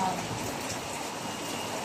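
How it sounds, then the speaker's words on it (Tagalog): Heavy typhoon rain pouring down in a dense, steady hiss with no breaks, loud and close throughout. "sa lakas ng ulan"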